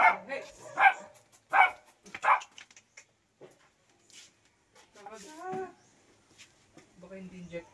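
A dog barks several times in close succession, fairly loud and near, then falls quiet while people talk.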